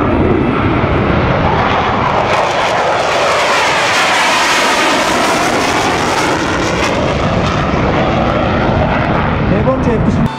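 An F-16 fighter jet flies at an air show at Osan Air Base, a loud, continuous engine roar that swells and sweeps in pitch as it passes, with a public-address voice faintly beneath.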